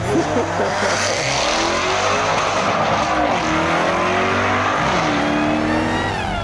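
A 600-horsepower SVO Project 8 car accelerates hard. Its engine roars loud and close, the pitch climbing steadily as it pulls away, with faint tire noise mixed in.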